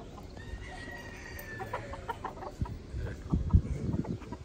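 Roosters bought as a gift crow and cluck at a moderate distance, a drawn-out crow early on followed by scattered clucks and scratchy bird calls that grow busier toward the end, with no talking.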